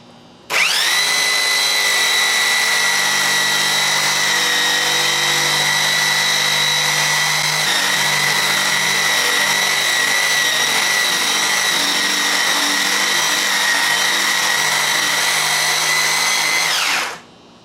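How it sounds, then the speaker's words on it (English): A power sander whines at a steady high pitch for about seventeen seconds, sanding a 12-string guitar top in a garage, close and loud, with a brief dip partway through before it shuts off. "Another operation for the garage, the sanding of the top."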